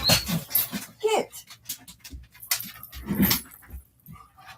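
An excited dog panting, whimpering and scrabbling close by in a room, busy bursts of noise with a jangle of tags, while a person talks to it over the commotion.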